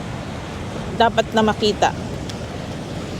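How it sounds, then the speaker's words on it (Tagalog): Rough, stormy sea at Red Rocks Reserve in New Zealand as a typhoon approaches, a steady loud wash of surf and wind noise running throughout, with a person speaking briefly over it. "Kaya yung dagat, galit, masungit, ang ingay"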